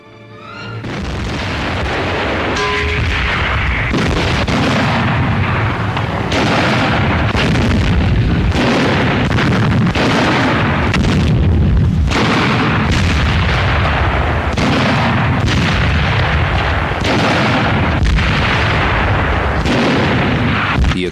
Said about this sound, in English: All weapons fire at will.